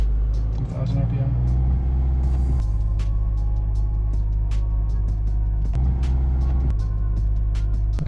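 Isuzu Dmax or Ford Ranger pickup engine held at 2000 RPM, a steady low rumbling drone that stays even and close throughout, with a brief shift partway and talking over it.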